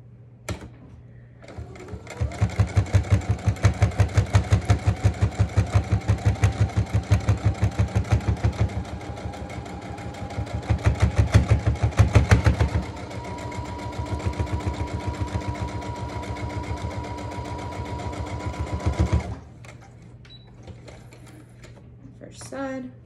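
Sewing machine stitching the outer edges of a fabric face mask for wind instrument players, running in long rapid buzzing bursts with a brief pause between, close and loud.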